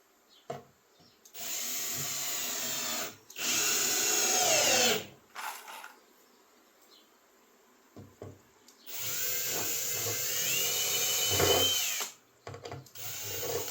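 A power drill bores into plywood with a bit in a workshop: two sustained whirring bursts of several seconds each, the motor pitch rising and falling under load, separated by quiet pauses and small handling knocks.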